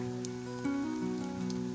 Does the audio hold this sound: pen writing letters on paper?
no